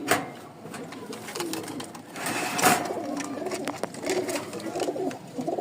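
Breeding pair of racing pigeons with eggs, soft low cooing close by, partly under someone speaking.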